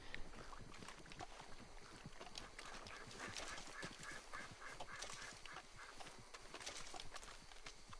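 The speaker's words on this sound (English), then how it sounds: "I hear ducks." Ducks quacking in the open-world game Red Dead Redemption 2 Online, a steady busy chorus of calls layered over continuous outdoor ambience and rustling, with no talk.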